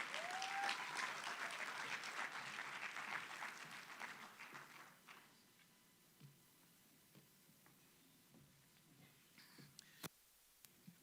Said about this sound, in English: Let's welcome Prof. Paul on stage with a good round of applause